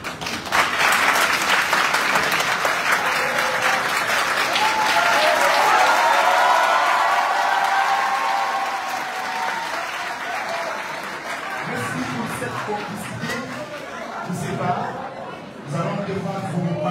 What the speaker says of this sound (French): Et je vous prie de bien vouloir l'acclamer jusqu'à ce qu'il vienne là